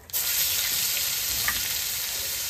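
Cumin seeds and onion-garlic paste hitting hot oil, a sudden, steady hiss of frying that fills the short moment, close and fairly loud.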